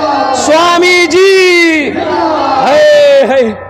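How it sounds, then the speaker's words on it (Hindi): A crowd at a Muslim religious gathering loudly chants the Takbir slogan in unison, sustained voiced shouts rising and falling in two long waves, close and strong with little pause between calls. "हाथ उठा के नारा लगाओ, नारे तकबीर, नारे तकबीर।"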